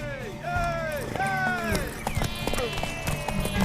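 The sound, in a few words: horse hooves galloping in The Witcher 3 video game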